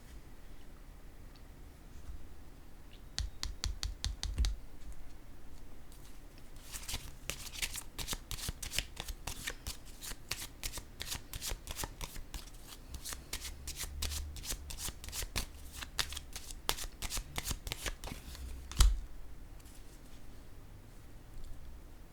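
Tarot cards are shuffled in quick riffling bursts, close and crisp, then set down with a few soft taps, with short quiet pauses between the shuffles.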